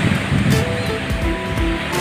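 Strong wind-driven sea waves, a loud continuous roar of surf with rushing water and no talking.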